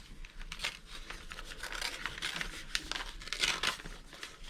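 A paper envelope holding paper pocketknife pieces being opened, with soft continuous crinkling and rustling of paper, close and quiet.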